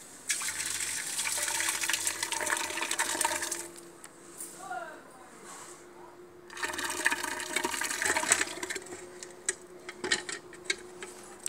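Neem leaf and datura fruit-and-leaf paste is poured into a liquid-filled container for organic pesticide, giving a watery gushing pour in two bursts separated by a quieter pause.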